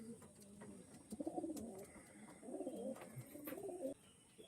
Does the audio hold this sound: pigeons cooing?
yes